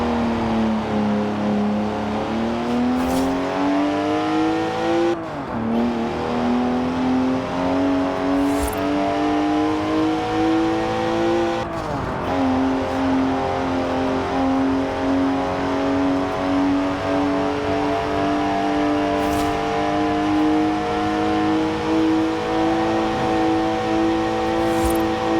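A BMW 3-litre twin-turbo straight-six with 335 horsepower, driven in Forza Horizon 4, drones loud and steady with rising and falling revs and a couple of brief gear-shift dips, with no voices.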